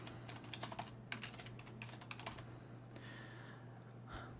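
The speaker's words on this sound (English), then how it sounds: "We can type in our keyword, teeth whitener." Close, steady tapping on a computer keyboard as a search keyword is entered into marketing software, a quick run of light clicks over a constant low electrical hum, with no talking.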